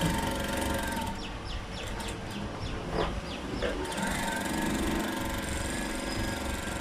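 A sewing machine stitches a blouse, a steady close whir with a run of rapid ticking stitches partway through over constant background noise.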